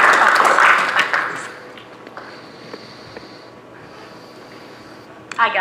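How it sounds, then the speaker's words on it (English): A church congregation claps in praise during a service, a loud burst of massed applause that fades away within about a second and a half, leaving a quiet room. "Y'all give God a big old clap of praise as Fran and Alan come tonight."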